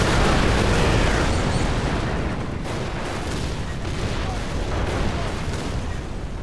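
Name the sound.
explosions in the video game Far Cry 3 map editor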